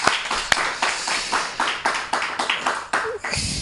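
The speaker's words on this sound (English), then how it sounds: "Give it up to Anthony Brooks." Audience applause for a stand-up comedian at a live comedy show, a burst of dense clapping from a sizable crowd lasting a few seconds, steady and fairly close with no talking over it.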